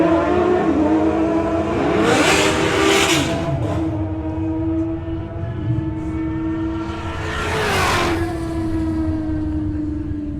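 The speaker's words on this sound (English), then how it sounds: "You can hear it hitting the limiter." A drag racing car's engine roars close and loud at a national finals event, rising in two strong surges with sustained high revving that sounds like it is bouncing off the rev limiter.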